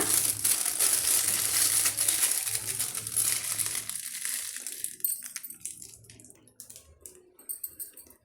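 Plastic piping bag for jalebi batter being handled and snipped to make a small hole, steady crinkling and rustling that thins into sparse crackles toward the end.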